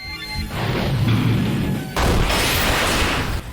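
Fire spell attacks in the video game Abyss Crossing, a sustained roaring blast of flame and crashing impacts that surges again midway, loud and dense with no talking.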